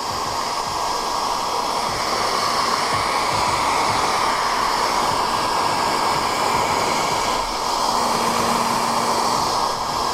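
A workshop heat gun blows steadily for about ten seconds while drying a car windshield, a loud, continuous whooshing roar close by, with no talk.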